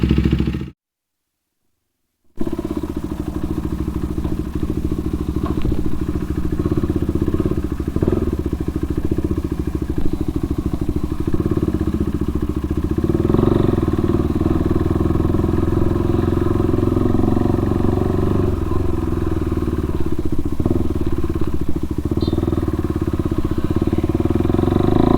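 A 2022 KTM RC 390 motorcycle with its catalytic converter removed rides along with a loud, continuous engine drone and rumble, briefly cutting out near the start before a steady run.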